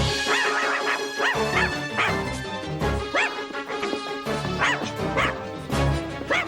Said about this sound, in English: they made balloon dogs, and they are barking